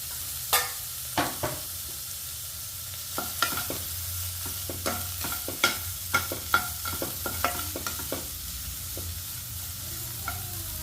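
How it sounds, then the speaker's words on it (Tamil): Beetroot being sautéed in a hot pan: a spatula stirs and scrapes in a steady, uneven run of sharp knocks over a low, constant sizzle, close and with no talk. "பீட்ரூட்டை போட்டு நம்ம நல்லா வதக்கி விட்டுறோம்"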